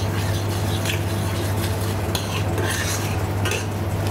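Mustard is stirred into a red mustard sauce simmering over medium heat, with soft scraping and utensil clinks over a constant low stove hum.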